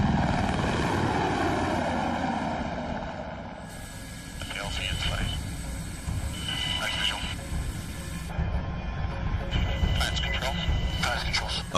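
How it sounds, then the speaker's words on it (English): A military helicopter on a fast low-level pass over a landing zone, its engine and rotor noise loud and sustained, with radio-like chatter and voices over it. "The lead aircraft makes a fast, low-level pass over the landing zone to draw enemy fire."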